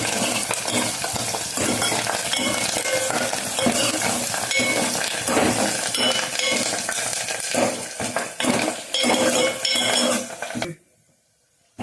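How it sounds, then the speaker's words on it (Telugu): Loud, continuous sizzling of tempering spices in hot oil for tamarind rasam, with occasional stirring and pan clinks, then it cuts to near silence at the end. "ఇప్పుడైతే ఇవైతే వేగుతున్నాయి కదా"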